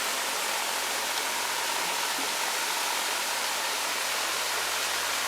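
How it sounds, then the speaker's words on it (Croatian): Steady broadband rush of a waterfall beside a small off-grid hydro installation, with water running through a narrow channel toward a dam; continuous and even, fairly close, with no voices. "Eno ga i vodopad"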